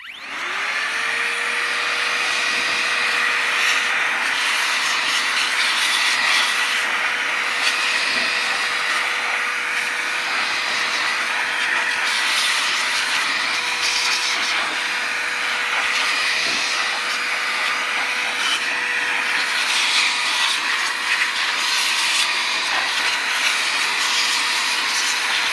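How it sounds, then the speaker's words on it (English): A steady, loud hiss of compressed air blasts continuously into an opened Sony TC-WR445 twin cassette deck with its top cover off, holding a constant rushing tone for the whole stretch with no talk. "A quick blast with some air, see if there's much to come out."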